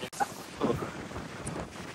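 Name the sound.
strong wind on a mountain hike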